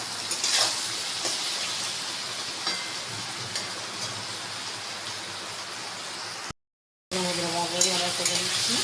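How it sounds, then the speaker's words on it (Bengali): Potatoes and eggplant fry in a pan with tempering spices, a steady close hiss of sizzling oil with occasional stirring clinks, briefly cut to silence before resuming. "বেগুন মধ্যে আলু দিয়ে ফোড়ন দিয়ে আলু দিয়ে ভেজে নিচ্ছি"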